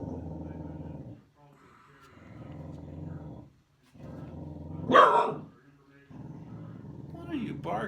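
A dog barks once sharply amid steady talking, with a brief growling bark near the end, close by in an indoor room.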